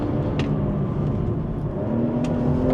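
A BMW M340i petrol car drives hard along a road, its engine a steady, close, throaty hum with faint tyre and road noise and no voices.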